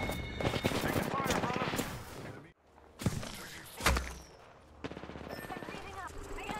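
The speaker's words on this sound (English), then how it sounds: "Taking fire" Rapid automatic gunfire rattles in bursts during a firefight in the video game Apex Legends, loud and close, with a brief lull before single sharp shots and further bursts follow.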